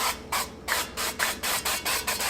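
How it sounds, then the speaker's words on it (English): Short bursts of avocado oil spray hiss into the empty pot of a Ninja Speedi, about nine quick even pumps in a row, close and fairly loud with brief gaps between each. "we're going to put a little bit of oil in here, spray oil"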